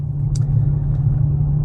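Low, steady road rumble inside a Chevrolet Tahoe or GMC Yukon SUV driving along, with a brief faint click near the start.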